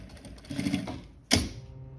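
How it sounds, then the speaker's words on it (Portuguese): Domestic sewing machine stitching bias tape, a faint soft whirring run of needle strokes close by, followed by a sharper brief mechanical clack near the end. "esticando levemente o meu viés e passando a costura"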